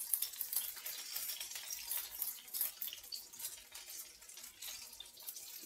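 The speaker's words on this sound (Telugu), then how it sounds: "ఇలా వేసేసి మీడియం ఫ్లేమ్లో ఉంచి ఫ్రై చేసుకుందాం" Fish pieces fry in oil over a medium flame for an Andhra-style fish fry, a soft, continuous crackling sizzle with fluttering bursts, quiet and steady throughout.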